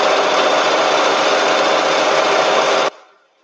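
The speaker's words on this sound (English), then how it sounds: "Very noisy sewing machine." A loud sewing machine chain-pieces fabric with white thread, a dense, steady mechanical whir running nonstop for about three seconds before cutting off abruptly into a brief fading tail, with no talking.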